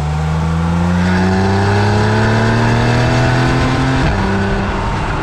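A Porsche 911 Carrera with a 3.4-liter, 350-horsepower engine revs loudly and steadily, its tone climbing smoothly for about four seconds before a brief shift-like drop and settle.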